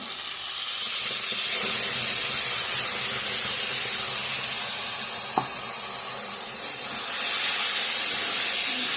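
Spices, tomato paste, onion, chilli, ginger and garlic hit a hot pan in a loud, continuous hissing sizzle that holds steady throughout, with one faint clink partway.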